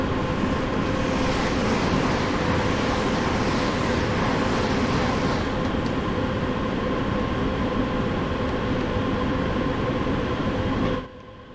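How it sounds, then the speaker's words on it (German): An S-Bahn train rolls past at Essen-Frohnhausen on the Rhine-Ruhr main line in Train Sim World, giving a loud, steady rumble with rail noise for about eleven seconds before cutting off abruptly. "Noch eine S-Bahn vorbei an Essen-Frohnhausen."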